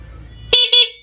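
Two short, loud blasts from a newly installed car horn wired with a negative trigger, in quick succession, close by, following a faint low hum; the second toot is slightly longer and fades out.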